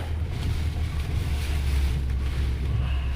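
Strong tropical storm wind of around 40 to 50 mph roars as a loud, continuous low rumble with constant buffeting, heavy and close to the microphone, and no one speaks.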